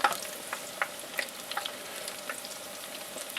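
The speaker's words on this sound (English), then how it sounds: "we just let that fry" Food frying in a pan, a steady close sizzle with light crackling pops and a few utensil taps, no voices.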